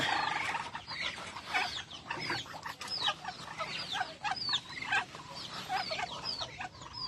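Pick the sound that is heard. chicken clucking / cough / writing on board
chicken clucking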